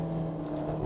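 A Ferrari Portofino driving fast on a narrow road, its steady engine drone and whir close and continuous, with no talk over it.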